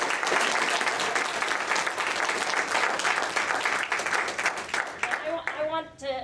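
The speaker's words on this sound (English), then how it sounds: "very warm round of applause" An audience at a consciousness expo applauds warmly in a dense, sustained wash of clapping that thins out near the end as a voice begins to speak.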